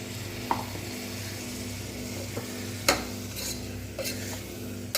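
Beetroot kuzhambu gravy is stirred in a pan over a steady low sizzle, with a few sharp spoon scrapes and taps against the metal standing out close by.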